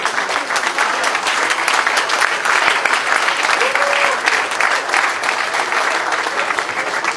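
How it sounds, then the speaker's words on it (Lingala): A crowd at an outdoor gathering for TP Mazembe's 80th anniversary claps for Moïse in sustained, dense applause that stays steady and loud throughout, with a faint voice mixed in. "Il faut applaudir Moïse."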